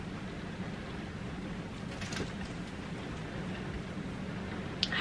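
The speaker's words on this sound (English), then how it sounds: "can you hear that rain? Oh, I love that sound." Steady rain falls outdoors as a constant, even hiss with a few faint patters and drips standing out, no voices over it.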